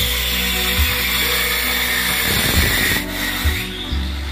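A wall cutter grinder machine cuts a groove into a wall, giving a steady, loud mechanical whine with a few brief bumps and a short dip as the blade shifts, running alone without talk.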